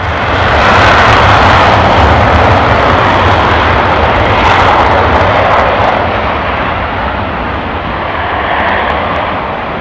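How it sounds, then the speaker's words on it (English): F-15E Strike Eagle and F-15C jets taxiing out to the runway at an airbase, a loud, close, rumbling engine roar with a rushing high whine that swells and eases as they pass. "A seemingly never-ending stream of F-15E Strike Eagles and F-15Cs taxied out to runway 24 for departure."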